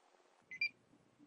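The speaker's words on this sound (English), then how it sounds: "When you hear the beep, the reader is programmed and ready to go." A TWN4 MultiTech card reader gives two short electronic beeps in quick succession once programming finishes, clear and close against a quiet room.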